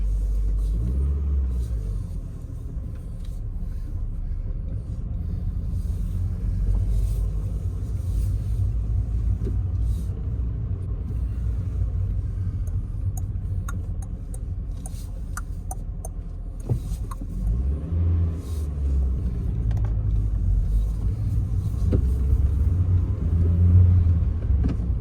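2007–08 GD3 Honda Fit Sport with an Injen cold air intake, heard from inside while driving: a steady low engine and road rumble with gentle swells as it accelerates, continuous and fairly loud throughout.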